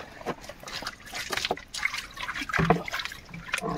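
Water splashes and trickles in short, irregular pours as it is bailed by hand out of a traditional Konkan fishing boat, close by and fairly quiet, with faint talk now and then.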